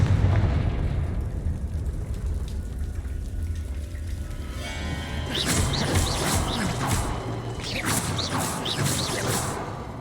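Confringo fire spells going off in Hogwarts Legacy, a run of sharp crackling blasts and bursts over rumbling mechanisms, growing denser and louder in the second half.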